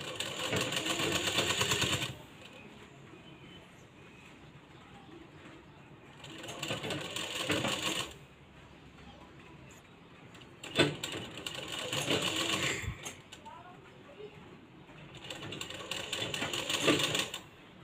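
A sewing machine stitches a blouse neckline in repeated bursts of fast, steady mechanical whirring, separated by quieter pauses.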